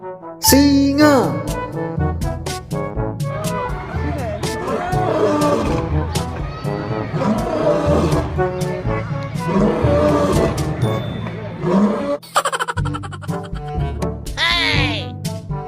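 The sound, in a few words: toy lion roaring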